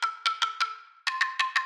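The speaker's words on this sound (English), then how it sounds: "Next is hammered wood. So it's normally supposed to sound like this" GarageBand's hammered wood instrument played at its normal pitch, eight short bright mallet-like strikes in two groups of four, each note ringing briefly with a woody tone, evenly paced and alone.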